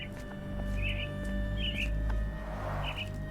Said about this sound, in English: Minor birds, if I'm not mistaken.